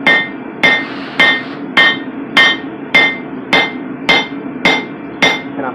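Half-inch steel is hammered on the bevel of an anvil in about eleven loud, evenly spaced ringing blows, each with a sharp metallic attack and a short decaying ring, and no voices.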